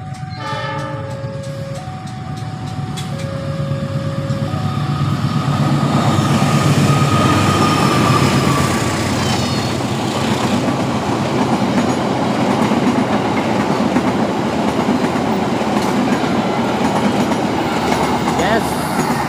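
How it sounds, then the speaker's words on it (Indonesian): An Argo Parahyangan passenger train hauled by a CC206 locomotive rolls past close by, its horn sounding briefly at the start before a loud, steady rumble and clatter of carriages fills the rest. "Argo Parahyangan sepertinya ini Idel Harina dengan menggunakan lokomotif CC206"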